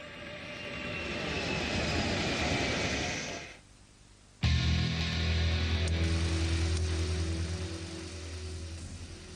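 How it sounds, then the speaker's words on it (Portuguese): Lockheed U-2 spy plane from the Cold War, designed by Kelly Johnson, roars steadily overhead with its jet engine, cuts out briefly partway through, then returns louder with a deep low rumble underneath. "do rebento da Guerra Fria de Kelly Johnson, o avião espião U-2."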